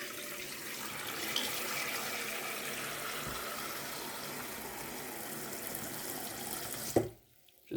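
Steady rush of tap water running into a kitchen sink as a pan fills to soak after cooking chicken mushroom leek pasta, a continuous broadband hiss that stops abruptly near the end.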